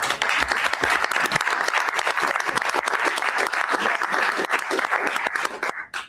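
Loud, sustained applause from a large crowd fills the room, then cuts off abruptly at the end.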